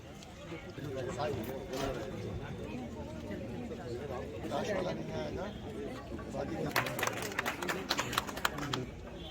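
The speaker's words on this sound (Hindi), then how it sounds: "इनके लिए तालियों की गड़गड़ाहट निरंतर जारी रहे" Audience applause at a block-level International Literacy Day event, with scattered claps that grow denser and sharper toward the end over a continuous murmur of talk and room noise.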